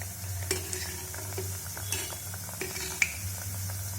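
Soft, steady sizzling of balushahi sweets frying in oil, with occasional light clinks and scrapes of a utensil.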